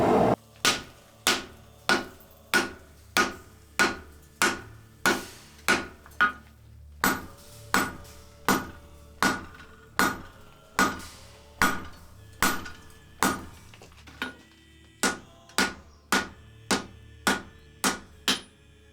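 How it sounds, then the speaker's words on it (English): Steady, ringing hammer blows strike a steel billet during forge welding of layered Damascus with O2 steel, about one per second, sharp and close, with nothing else heard. "It is time to repeat the forge welding process."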